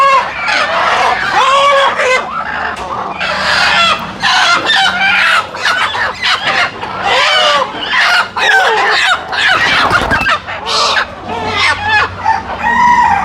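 Native country chickens (nati koli) cluck and crow loudly and continuously at a weighing scale, with a rooster's cock-a-doodle-doo among dense overlapping fowl calls and occasional human voices in the background.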